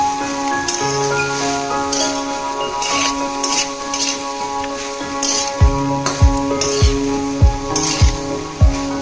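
Vegetable fried rice stirred in a pan, a continuous sizzle under a steady tonal hum, with a run of sharp rhythmic clinks of a utensil against the pan toward the end, close and fairly loud.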